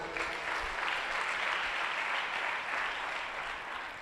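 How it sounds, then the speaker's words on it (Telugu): A church congregation claps together on request, a dense sustained wash of many hands at moderate distance, fading slightly toward the end. "కొట్టు చప్పట్లు ఒకసారి"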